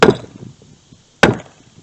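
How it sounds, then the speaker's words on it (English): Two sharp metallic hammer taps seating a rear wheel seal on a 1985 Ford E350, about a second apart, close and loud, each with a short ringing decay, and no voices. "And use a hammer. Give some love taps."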